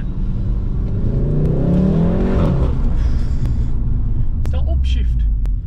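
A car engine in manual mode revs up, its pitch climbing through the gears before easing off into a low rumbling burble, heard from inside the car with voices talking over it.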